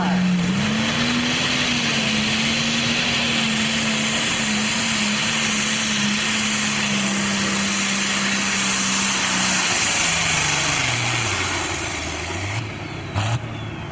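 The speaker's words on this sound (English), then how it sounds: "you heard that motor start to get a little rough at about 275 feet" A pro stock tractor engine roars through a tractor pull run, a loud sustained drone that sags and rises in pitch and turns rougher toward the end. It stays distant and continuous throughout.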